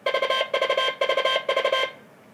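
Brisk light-weight Morse code tones at 30 words per minute in quick groups of short and long beeps, a steady keyed rhythm that ends and leaves quiet.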